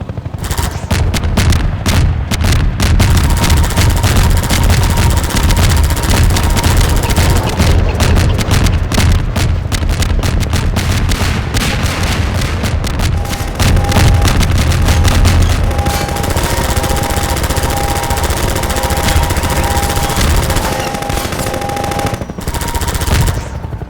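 Rapid machine-gun fire and repeated bomb blasts roar almost continuously in a Half-Life 2 battle, dense and loud with brief lulls between bursts.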